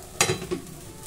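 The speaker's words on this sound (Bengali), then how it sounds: "আজকে একটু ভাজা করে নিচ্ছি। পেঁয়াজ লঙ্কা টঙ্কা দিয়ে ভাজা করলে খেতে বেশ ভালো লাগে।" Vegetables with onion and chilli frying in a pan, a soft sizzle with a couple of sharp stirring scrapes close by, no voices.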